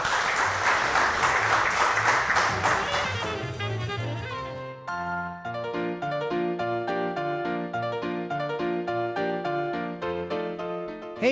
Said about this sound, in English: a round of applause because we're celebrating the West Falls Center for the Arts